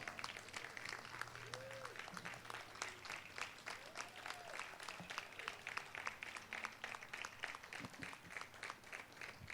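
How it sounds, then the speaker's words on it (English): Faint, sustained applause from a standing audience at a Veterans Day event continues throughout, with a few quiet voices underneath. "Please stand and give them a big round of applause."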